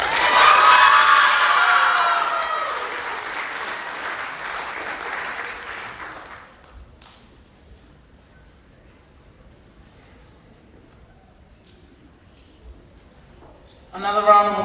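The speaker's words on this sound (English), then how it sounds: "Another round of applause, ladies and gentlemen, for Ms. Jennifer Cepelino." Audience applause and cheering at a Pasifika Fusion main-stage performance: a dense, loud wash of clapping with shouts and whoops that fades away after several seconds into near silence, then a voice starts speaking at the end.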